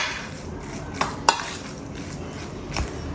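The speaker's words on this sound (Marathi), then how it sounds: "हे अगोदर मिक्स करून घेऊ बघा पूर्ण जो रवा आहे भिजलेला आहे" A spoon clinks and scrapes against a bowl while soaked semolina batter is stirred, with a few sharp taps amid soft, continuous mixing sounds, close by and fairly quiet.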